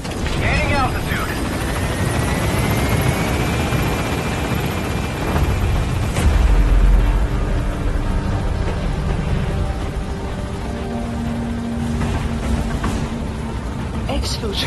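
A military transport helicopter lifts off from a landing zone in Metal Gear Solid V: The Phantom Pain, its rotor and engine roar close and steady beneath radio-style voice chatter, with a deep boom partway through.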